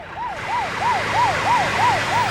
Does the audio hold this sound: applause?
no